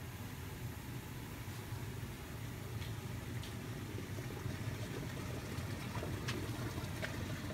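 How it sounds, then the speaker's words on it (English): Hot tub water at a lodge churns and bubbles in a steady, dense wash of noise, with a low rumbling undertone and occasional brief splashes close by. "They have their hot tub."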